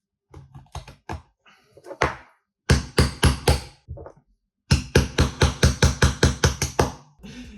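A hammer knocks on a tray of baking cookies in quick bursts of sharp, close taps, several clusters of strikes separated by brief pauses.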